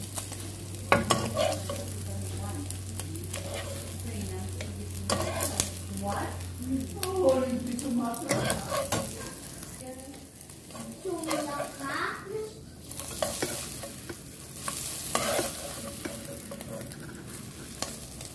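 Scrambled eggs sizzle and get stirred in a pan, a close crackle with scraping strokes running under a person talking, a low hum fading out early.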